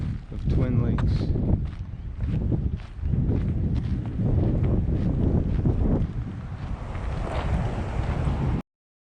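Strong, steady wind buffets the microphone on an exposed hiking trail beside a lake in the Colorado mountains, a continuous loud roar with gusts and no pauses.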